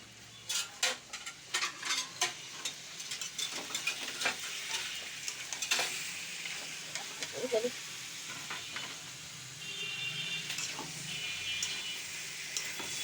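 Meat frying and being stirred in a pan, a close sizzle broken by sharp clacks and scrapes of a spoon against the pan, busier at first and then settling into a steadier hiss, with no talk.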